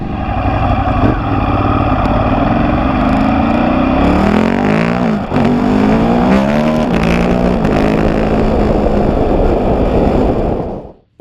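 Ducati Hypermotard 950 SP motorcycle on a race track, its engine roaring loud and close throughout, pitch rising and falling through gear changes and acceleration, with no voices.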